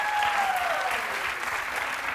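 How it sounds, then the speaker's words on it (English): A television talk-show studio audience applauds in a brief, steady burst of clapping, moderately loud, with a faint sliding electronic tone fading underneath. "applause needed."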